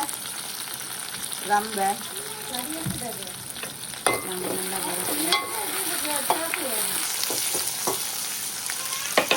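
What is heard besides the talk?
curry leaves frying in oil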